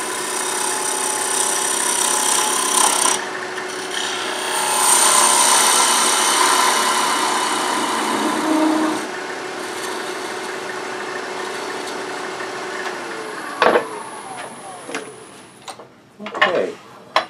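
Wood lathe turning a small wooden chickadee ornament while a tool faces off its bottom, a steady broadband cutting hiss over motor hum with a few sharp knocks and scrapes near the end.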